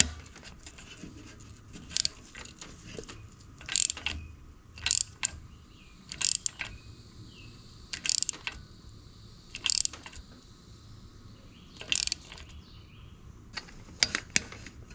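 A bolt on a tractor is torqued down with a ratcheting wrench, sharp ratchet clicks coming in short, regular bursts about every two seconds over a quiet background.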